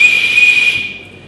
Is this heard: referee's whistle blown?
yes